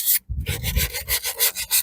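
Sandpaper rubbing the rough edges of an outdoor wooden chair being refurbished, a close, rhythmic series of short gritty scraping strokes with brief pauses between them.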